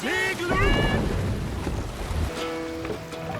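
Boat sailing in Assassin's Creed Valhalla, a steady wash of water and wind rushing under the hull, with tonal voice-like chanting rising over it at the start and again near the end.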